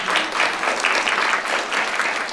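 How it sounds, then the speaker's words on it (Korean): An audience at a symposium on barrier-free city planning claps to welcome a city council member to the podium, a dense, lively round of applause that stays steady and fills the room. "큰 박수로 맞아주시기 바랍니다."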